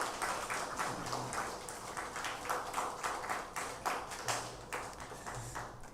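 A church congregation at a Sunday service applauds the choir, with steady dense clapping from many hands filling the room at a moderate level and no speech over it.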